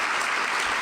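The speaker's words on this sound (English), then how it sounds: "can we just give one more round of applause to Joel McHale?" An audience at a school foundation event claps in a brief, loud, continuous burst of applause with no voices.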